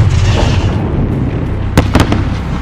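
A grenade explosion in Call of Duty Modern Warfare sounds among dense battlefield noise, with loud sharp cracks and pops bursting near the end over a continuous low rumble.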